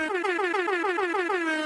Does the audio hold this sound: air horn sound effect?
yes